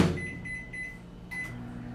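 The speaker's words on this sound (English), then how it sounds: "Take this bowl, put into microwave." A microwave oven hums steadily with a bowl of coffee inside, a constant low drone holding through the whole span, loud and close, with a faint higher whine riding over it and no voices.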